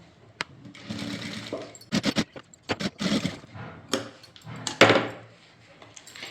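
Sewing machine stitching blouse lining fabric in short bursts, with rapid mechanical needle clatter starting and stopping several times, close and fairly loud with small handling knocks between runs.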